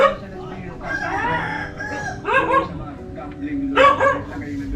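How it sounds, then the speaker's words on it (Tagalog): A dog barks near a house, a few short barks in quick bursts close by, with a rooster crowing in the mix and people talking nearby. "May aso."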